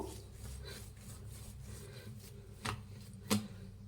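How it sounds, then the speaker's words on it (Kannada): Hand kneading of maida bread dough on a surface, a quiet repeated rubbing and pressing rhythm with a couple of sharper slaps near the end, no voices. "ನೋಡಿ, ಇದೇ ಥರನೇ ನಾದಬೇಕಾಗತ್ತೆ"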